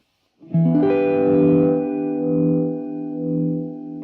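An electric guitar chord rings out through a vibe effect set to a sine wave, wobbling and pulsing, sustaining and slowly swelling with no talking.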